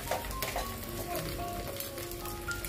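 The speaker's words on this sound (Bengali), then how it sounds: "এখন আমি ডিম করে নিচ্ছি রুটি দিয়ে খাওয়ার জন্য" Eggs frying in a pan for a home breakfast with flatbread, a steady close sizzle with faint clinks of a utensil against the pan.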